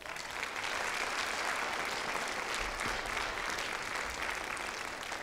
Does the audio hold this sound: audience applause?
yes